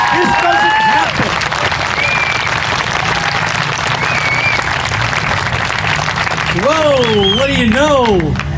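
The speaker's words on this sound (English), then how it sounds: "Let's give him a great round of applause." A crowd at an off-road veterans' event at Silver Lake Sand Dunes applauds a Medal of Honor recipient, with loud, sustained clapping and cheering that runs throughout, and whoops and voices rising over it near the end.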